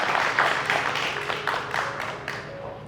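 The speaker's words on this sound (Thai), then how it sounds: "ขอเสียงปรบมือดัง ๆ ต้อนรับคุณแบงค์ธนพลวิบูญจันทร์ค่ะ" Guests at an engagement ceremony at Gaysorn Urban Resort clap for the groom, a steady wash of group applause with dense overlapping claps and a faint sustained tone underneath.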